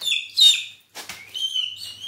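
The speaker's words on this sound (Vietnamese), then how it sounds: "Ngày nay thì mình bắt con đại bàng ưng" A young hawk eagle calls in shrill, high-pitched bursts. A sharp screech is followed by a brief pause and then further thinner calls, close and fairly clear, with no talking.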